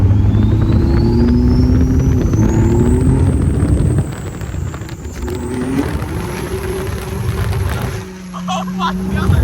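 A 1000 hp 4th-gen Cummins diesel Megacab truck accelerating hard with traction control off, a loud continuous engine roar rising and shifting in pitch, dipping briefly then surging again, with voices talking over it.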